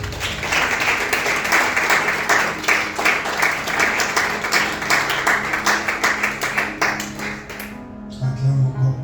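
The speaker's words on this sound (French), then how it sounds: "Acclame encore le Seigneur" A church congregation applauds and cheers in acclamation of the Lord, sustained rhythmic clapping filling the space, loud and dense, fading toward the end as a voice and a sustained tone take over.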